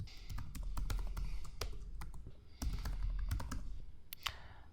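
Rapid typing on a computer keyboard as an email address is entered, a steady stream of close, crisp key clicks with no voice.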